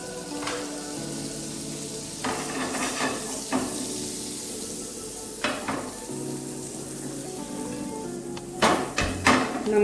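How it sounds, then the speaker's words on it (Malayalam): Paneer pieces fry in butter in a hot pan, a steady close sizzle with occasional scraping and clinks of a utensil against the pan, no talking. "നമ്മളുടെ പനീറെല്ലാം ചെറുതായിട്ടൊന്ന് ഫ്രൈ ചെയ്തെടുക്കാം നമുക്ക്."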